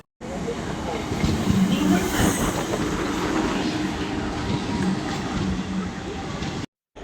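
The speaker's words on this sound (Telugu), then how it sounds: "ఇదే అనమాట మా ట్రైన్ వచ్చేసి లింగంపల్లి టు తిరుపతి అనమాట" A Lingampalli to Tirupati passenger train rumbles past close by with steady rolling wheel noise, a faint squeal now and then, a continuous loud roar throughout.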